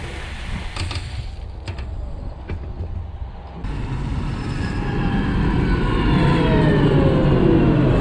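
A forage chopper rolls into a corn field at harvest, its engine a broad, steadily rising roar that grows louder and nearer over the final seconds, with no one talking.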